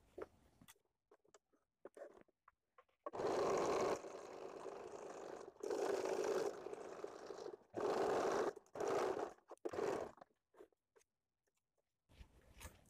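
A sewing machine stitches blouse fabric in several short bursts of rapid whirring, loud and close, separated by quiet pauses with faint handling sounds.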